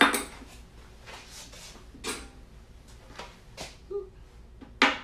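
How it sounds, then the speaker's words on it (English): Vanilla wafers and banana slices being placed into a serving dish for banana pudding in a home kitchen, giving a handful of light clinks and taps scattered irregularly, close and moderately loud, with no talking. "I'm gonna start working on putting my vanilla wafers and my banana in my serving dish"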